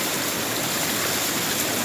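A cold river rushing steadily, a loud, dense, even wash of flowing water with no pauses and no talking over it.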